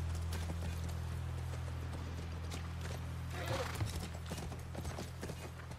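Faint horse hooves clip-clop at a walking pace in The Last of Us video game, over a low, steady electronic hum, with a slightly louder cluster of steps partway through.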